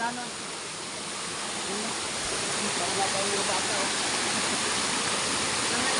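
A waterfall roars steadily as a broad, even wash of rushing water at constant loudness from start to end, with no one talking over it.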